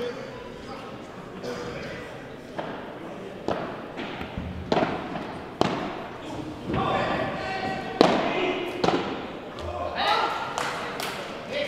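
Padel rally at a P1000 tournament, sharp ball strikes and thuds off the glass walls in an irregular sequence, echoing in an indoor arena, with a commentator talking over them.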